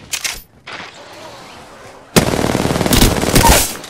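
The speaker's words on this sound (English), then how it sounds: "Getting shot at." Automatic gunfire in the battle-royale shooter Apex Legends: a few short shots, a brief lull, then a loud, sustained rattling burst of rapid fire up close.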